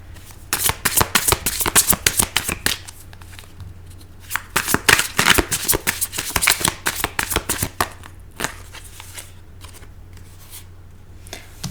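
A deck of tarot cards is shuffled for a reading, giving rapid, crisp riffling bursts of card flutter close up, pausing briefly between rounds before trailing off into a few softer flicks.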